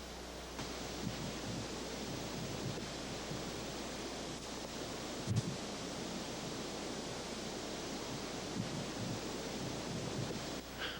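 Ocean waves wash over a flowing lava field on Kilauea, heard as a continuous broadband rush of surf and wind with a few brief louder surges, fairly distant and without any voices.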